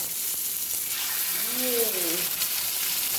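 Fish pieces frying in a pan with mint give a steady, close sizzle that runs throughout, with a faint tonal sweep partway through.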